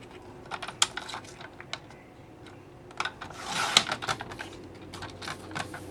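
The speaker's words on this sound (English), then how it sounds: "I'll just take the longer piece that I haven't cut and I'll cut that down a little bit more" Scissors snipping a strip of paper for a sketch layout, a series of close, crisp clicks and cuts with soft rustling and paper rubbing in between.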